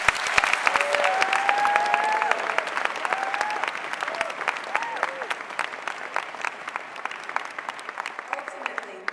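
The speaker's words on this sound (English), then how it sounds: "we need to give the foundation a round of applause" A large conference audience gives a sustained round of applause, dense and even clapping throughout with voices and a few faint whoops rising over the crowd.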